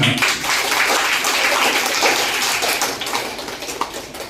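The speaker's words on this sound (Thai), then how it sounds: "ขอเสียงปรบมือให้กับท่านผู้กองทั้งสอง" An audience claps at a Thai municipal community zero-waste project gathering, a crowd's steady applause that stays loud at first and then slowly thins and fades toward the end.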